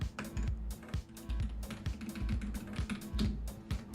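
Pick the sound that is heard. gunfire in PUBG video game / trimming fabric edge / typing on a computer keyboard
typing on a computer keyboard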